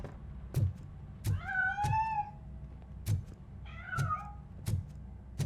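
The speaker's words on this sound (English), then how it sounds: "That cat must be hiding inside." A cat in the video game RoboCop: Rogue City gives two drawn-out meows, fairly quiet, between regular dull thumping beats in the background.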